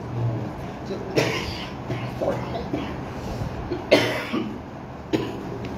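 A man coughing from an itchy throat, several separate harsh coughs spaced a second or so apart, fairly close, over a low steady room background.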